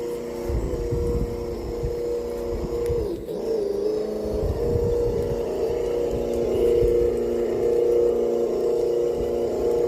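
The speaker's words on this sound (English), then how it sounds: "Got a cheap motor sound simulator in it, which works better than the more expensive single speaker one" A cheap engine-sound simulator in a Laegendary Grando RC car gives a steady, droning motor hum with a shifting low rumble. It runs continuously and fairly loud throughout, with no talking.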